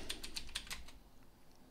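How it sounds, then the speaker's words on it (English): A password is typed on a computer keyboard while installing Java on Linux: a quick run of about six close, crisp keystrokes, then quiet. "type in my password"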